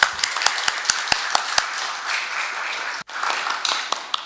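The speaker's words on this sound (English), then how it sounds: "let me welcome with a round of applause Professor Ambassador Ishii Masafumi." Audience applause greeting a keynote speaker at a policy talk in a former monastery: a room of clapping hands at moderate level, sharp individual claps standing out early, the sound briefly cutting out and then returning.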